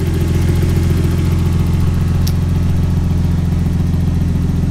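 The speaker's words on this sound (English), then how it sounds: "Now that it's warm, it seems to be idling more smoothly." Idling 1989 Nissan Skyline R32 with the original RB20 engine, warmed up and running unmodified: a steady, smooth low rumble held close and loud without interruption.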